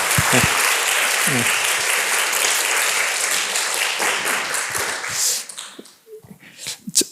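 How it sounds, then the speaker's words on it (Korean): Church congregation applauding at a Sunday worship service, with a steady, full round of clapping that fills most of the clip and then thins out into scattered claps and room noise. "우리 같이 한번 축복에 박수 한번 주시면 좋겠습니다."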